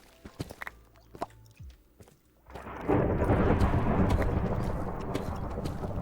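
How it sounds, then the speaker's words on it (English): Thunder cracks and rumbles during a storm in the Minecraft video game, a few faint clicks first, then a loud, sustained rolling roar that swells in and stays strong to the end, with no talk. "Damn, that lightning's going crazy."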